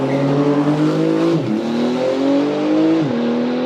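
A supercar laps a track at a shootout event, its engine loud and close, holding a high droning pitch that dips sharply twice as the driver lifts or shifts, then climbs again.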